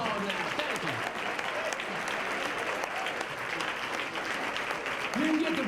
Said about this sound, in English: Y'all give me a round of applause now.